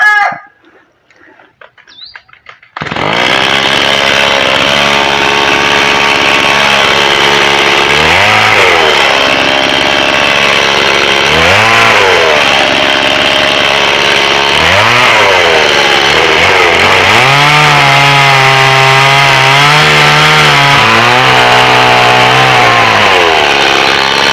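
A hard-starting chainsaw starts up after a few quiet seconds and runs loud and close, its engine pitch repeatedly rising and dropping as it bites into wood for charcoal making.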